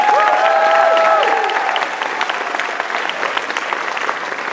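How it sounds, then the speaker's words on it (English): Pageant audience applauds the contestants, a steady wash of clapping that starts strong and settles slightly softer, with a sustained musical tone ringing underneath at the start. "Let's give all of the ladies a big round of applause."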